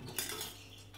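A spoon scrapes and clinks against a pan while stirring urad dal as it browns, a brief close rasping sweep with a metallic edge and no voices.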